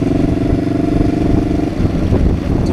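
A Kawasaki 454 LTD motorcycle engine revs hard and close, holding a loud, steady mechanical roar with a faint clatter, no voices.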